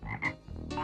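A cartoon frog gives a couple of short, bright croaks in quick succession, up close and fairly quiet, with no talking over it.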